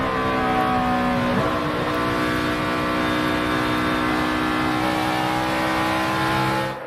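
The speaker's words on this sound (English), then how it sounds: "You can hear how they really have to feather the throttle even with good tires on these." NASCAR stock car engines roar continuously on a flat, unbanked track as drivers feather the throttle through corners, loud and close with shifting pitch.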